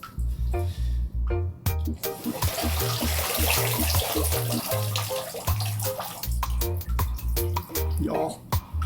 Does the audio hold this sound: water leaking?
yes